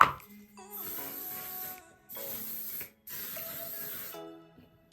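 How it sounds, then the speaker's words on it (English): One Size setting spray misted from a bottle in three quick bursts, each a soft, close hiss of about a second with short pauses between. "Last but not least, we're gonna be using our One Size setting spray"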